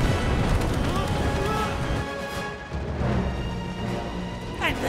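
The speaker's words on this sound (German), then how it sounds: "Festhalten, wir werden beschossen." Heavy artillery fire and explosions rumble through a Gundam anime battle, dense low booms and blasts layered over a continuous loud roar of combat.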